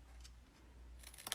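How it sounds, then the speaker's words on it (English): Scissors snip the corners of paper at an angle during a card-making craft with Stampin' Up! products, a couple of faint, quick, close cuts near the end of a quiet moment. "So I'm going to cut that at an angle and cut that at an angle,"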